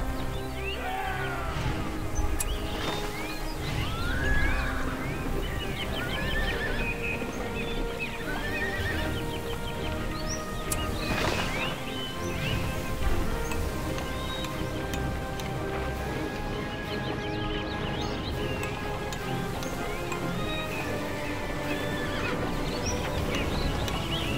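Horses in The Lord of the Rings: The Battle for Middle-earth, riders setting out at Westfold: repeated neighs and whinnies over steady clip-clopping hooves, with a busy battle ambience underneath throughout.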